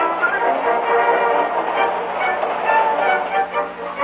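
A freight train rolls into a busy rail yard, a steady low rumble of wheels and cars that stays loud and continuous throughout, with no voices heard.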